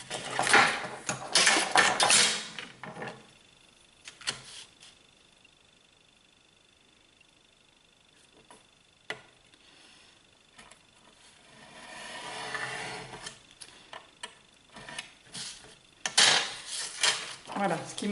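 Scissors cut through folded paper for scrapbook album pages, with crisp bursts of snipping at the start and end and scattered small clicks of the blades in the quieter stretch between.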